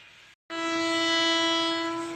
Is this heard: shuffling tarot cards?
no